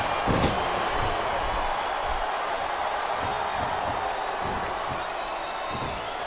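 Arena crowd noise in the wrestling video game WWE Smackdown vs Raw 2007, during a Big Show vs Hardcore Holly match: a steady, dense roar of cheering fans with a sharp slam-like thud near the start, continuous and fairly loud throughout.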